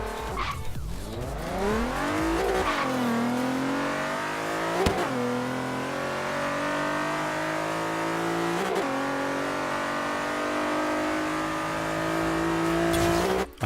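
A modified Nissan Z33 pulls hard on a quarter-mile run, its engine climbing loudly through several rising revs with brief drops at each gear change, close and continuous with no talk.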